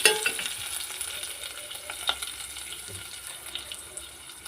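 Onion paste going into a pan for egg gravy curry gives a soft, continuous sizzle and frying hiss, fairly quiet and close, with a few brief clinks and scrapes from stirring.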